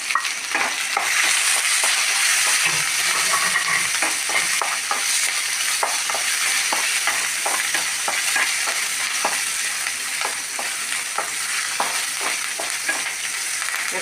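Ginger, green chili, garlic, dried chili and curry leaves frying in hot oil for a papaya buttermilk curry, a steady close sizzle with soft stirring scrapes throughout and no talking.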